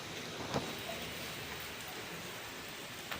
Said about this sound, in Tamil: கண்டினியூஸாக மழை பெஞ்சுன்னு